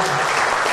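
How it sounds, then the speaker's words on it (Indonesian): Dense burst of audience applause at an entrepreneurship seminar, a loud, even wash of many hands clapping over a brief moment. "Jadi tepuk tangan kepada"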